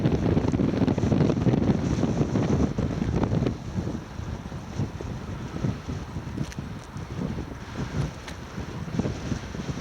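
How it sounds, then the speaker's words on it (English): Strong wind roars and buffets the microphone in the open Alaskan landscape near the Badlands, a continuous heavy rumble that is loudest at first and then eases slightly while still gusting. "Wind is blowing about 90 miles an hour."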